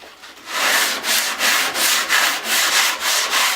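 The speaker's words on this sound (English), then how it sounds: "Then begins the sanding. You want to sand with the grain." Sandpaper rubbed along the grain of a wooden cutting board in about nine steady back-and-forth strokes, a loud close rasping scrape with a regular rhythm and no talk.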